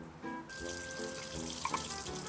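A turned-on tap pours with a hissing, splashing rush that starts abruptly and then holds steady, joined by faint tonal ringing and a couple of brief clicks.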